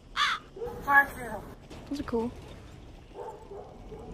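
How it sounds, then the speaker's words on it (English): Crows caw in The Walking Dead Saints & Sinners video game, a few harsh calls spaced over several seconds, moderately close, interleaved with someone talking. "Look at those birds."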